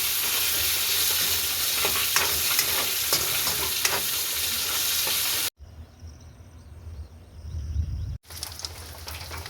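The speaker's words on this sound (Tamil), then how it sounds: "இப்போ பார்த்தீங்கன்னா எங்களுக்கு வெங்காயம் நல்ல வடிவாக வதங்கி கொண்டு வருது" Onions frying in a pan until golden brown, a steady loud sizzle with stirring scrapes, broken by a brief quieter stretch of softer crackling before the sizzle returns.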